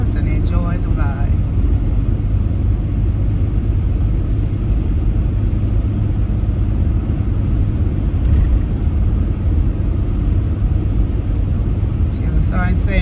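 A car cruising along a highway gives a steady, loud low road rumble and engine drone from inside the cabin, with people talking over it.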